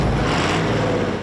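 A pulling tractor engine revs loud and close at a tractor pull event, a dense, steady roar with no gaps across the short stretch.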